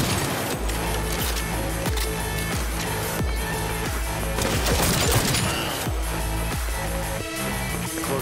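Rapid bursts of gunfire from the Cyberpunk video game, loud and dense, with repeated sharp shots and booms layered over a continuous game soundtrack for the whole stretch.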